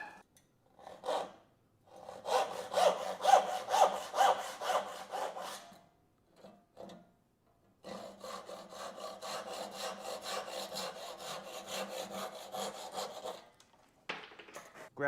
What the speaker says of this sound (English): now I just need to grab the saw and cut it out